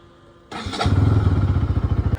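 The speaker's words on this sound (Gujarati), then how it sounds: "તો ચલો આપણે હવે બાઇકને સ્ટાર્ટ કરી નાખીએ" A motorcycle starts after a quiet moment: a sudden crank and catch, then the engine settles into a loud, close, steady rhythmic idle thump, with no talking.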